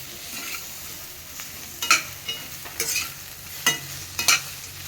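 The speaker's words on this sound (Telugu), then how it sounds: "ఈ కడాయి వేడి ఉంటుంది కదా, కడాయిలోనే అంత మంచిగా ఫ్రై అవుతున్నాయి" A snack mix with tomato and lemon juice frying in a hot kadai, with a quiet steady sizzle broken by several sharp scraping stirs of a spoon against the pan, close up and without speech.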